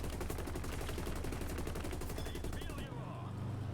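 Heavy 12.7mm machine gun on a Su-122-54 tank destroyer in War Thunder fires in a loud, rapid, continuous burst for about three seconds, then cuts off, leaving engine rumble and background battle noise.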